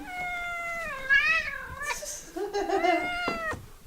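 A cat gives two drawn-out, wavering meows close up, the second one more strained and complaining.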